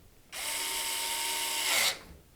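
Power screwdriver driving a screw to fix a small metal bracket inside a Lian Li O11 Vision PC case, one steady whirring burst of about a second and a half, close and loud, with no talk.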